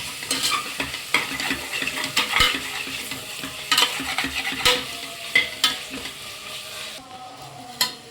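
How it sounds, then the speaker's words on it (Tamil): Mint and coriander sizzle and fry in a hot pan while a utensil stirs and scrapes through them, with steady crackling and occasional sharp clinks. "புதினா கூட கொத்தமல்லியும் இதெல்லாம் சேர்த்து வதக்கிடலாம்"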